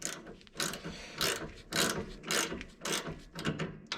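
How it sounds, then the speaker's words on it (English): A ratcheting wrench turns a 7/16 nut on the throttle linkage of a Taylor Dunn Model R utility vehicle, giving bursts of rapid metallic clicks in a steady back-and-forth rhythm, close and clear with no talk. "So got my ratcheting wrenches"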